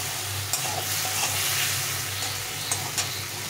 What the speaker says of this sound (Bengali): পরিমাণ মতো হলুদ গুঁড়ো দিয়ে এটাকে ভালো করে কষিয়ে নিতে হবে।